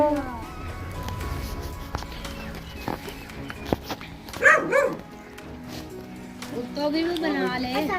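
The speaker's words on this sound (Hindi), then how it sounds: "कुत्ता तो बोलना चुप ही नहीं कर रहा।" A dog barks in short bursts in the background while people talk over it, the barking continuing on and off throughout.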